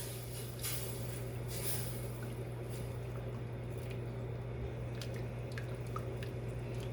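A roux thickened with 1¼ cups of 10% cream simmers in a pan with salmon for a creamy garlic Tuscan dish, giving soft bubbling and small pops over a steady low hum, with no talking.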